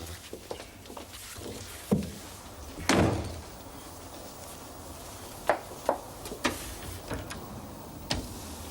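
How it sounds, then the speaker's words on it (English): A door is closed with a solid thud, followed by scattered clicks, latch noises and light knocks in a quiet room, with no talking. "Close the door after you."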